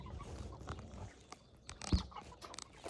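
Cornish cross meat chickens at about six and a half weeks old cluck and squawk nearby in scattered short calls, with one sharp loud squawk and faint rustling between.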